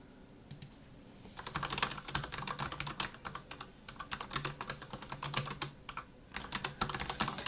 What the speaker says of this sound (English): I'll show you the command I typed in to get this application.